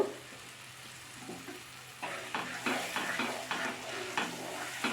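Tomato paste sizzles in a pan of frying tofu masala while a spoon scrapes and stirs it in rhythmic strokes, the sizzling growing louder partway through, close and with no voices.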